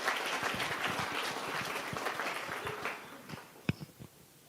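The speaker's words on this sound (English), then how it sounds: "And certainly deserves a round of applause for all the work." Audience applause at an award ceremony, a soft, distant patter of many hands that thins out and fades near the end, leaving a few isolated claps and knocks.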